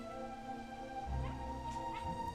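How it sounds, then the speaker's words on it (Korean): A fluffy puppy wags its tail and greets visitors at a photographer's home in a small village in Namwon, Seogwipo, Jeju, giving short whimpers and yips over music. "솜털이 보송송한 강아지가 꼬리를 흔들며 우리를 반기고"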